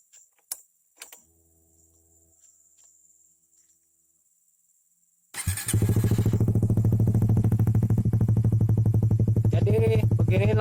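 A Suzuki GSX R150 fitted with an under-body SC Project exhaust fires up after a few quiet clicks, then idles loud and close with a steady, raspy, rapid-pulsing exhaust note.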